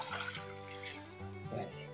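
Water gurgles and trickles as a dirty catfish glass tank is drained, a continuous close flowing and splashing sound with no talk.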